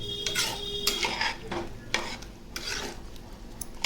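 A spoon scrapes and stirs through a thick paneer and pea pulao mixture of rice in a metal pressure cooker, in short repeated strokes with occasional clinks, close and steady.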